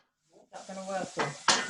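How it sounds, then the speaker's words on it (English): Chopped onions hitting hot oil in a pan while cooking a vegan chickpea and spinach curry, giving a close hiss with stirring and clatter of pan and utensils, under faint talk. "when your oil's sizzling like it is now, you need to throw your onions in"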